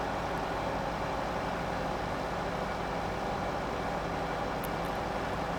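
In Farming Simulator 15, a tractor engine pulling mowers gives a continuous, steady diesel drone with a constant broadband rumble and no pauses, heard alone.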